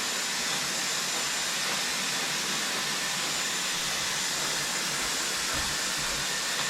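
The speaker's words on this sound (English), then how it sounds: "This dryer is particularly good for puppies or elderly dogs." A powerful dog force dryer blows a loud, steady rush of air during grooming, a broad constant roar with no pauses and no voices.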